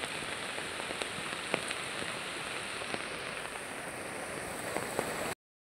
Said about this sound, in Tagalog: Ulan nga nagbuntagay.